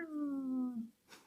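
A person imitating a cat's meow with the voice, one drawn-out, falling meow lasting under a second, close and fairly loud, followed by a brief breathy noise.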